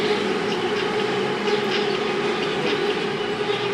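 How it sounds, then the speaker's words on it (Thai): An elevated electric train in Thailand rumbles past steadily and loudly, with a continuous roar and faint rhythmic clatter throughout, no voices. "รถไฟฟ้าประเทศไทยนะครับ กลางอากาศนะครับ"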